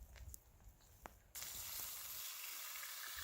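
A beef roast is seared in a preheated pot over an open outdoor fire. A loud, steady sizzle bursts in suddenly after a few quiet clicks and keeps hissing strongly to the end.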